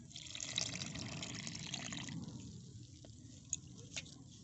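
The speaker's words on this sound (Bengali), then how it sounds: "এবারে আমি সুজির মধ্যে দেব ওই একই বাটির এক বাটি জল" Water is poured from a bowl into ground semolina, a soft, close trickle and splash that runs for about two seconds, followed by a few faint drips and light clinks in a quiet kitchen.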